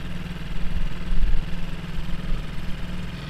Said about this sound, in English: We're only running the motor like maybe like an eighth of the throttle.